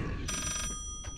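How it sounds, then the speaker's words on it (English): In the horror game Layers of Fear, an old-style telephone bell rings in a short metallic burst, stops, then starts a second brief ring, with faint low background noise underneath. "this phone is just ringing"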